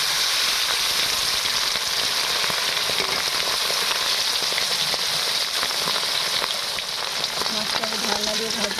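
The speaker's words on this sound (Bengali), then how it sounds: "মাছটা আমি ঢাকনা দিয়ে ভাজবো" Pieces of pangas fish frying in hot oil in a pan, a loud, dense, steady sizzle with crackling spatter throughout, no voices over it.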